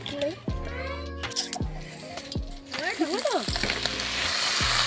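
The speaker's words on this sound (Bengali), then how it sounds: "খিচুড়ির সবজিটা আগে ভেজে নেবো" Vegetables for khichuri frying in a pan, a sizzle that swells to a steady loud hiss in the second half, with tonal music playing over it throughout.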